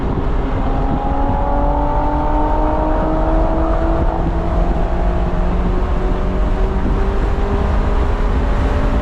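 Honda S2000 on a racetrack, engine drone rising and falling through a heel-toe downshift with a quick blip, steady cabin roar and road noise continuing throughout.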